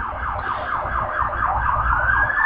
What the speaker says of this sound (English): Sounds like a cop car.